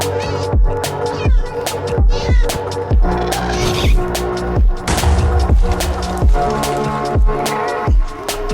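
A cat meows in the Minecraft video game, heard over steady game music with regular low thumping beats and no talk.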